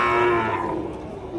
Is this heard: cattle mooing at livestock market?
yes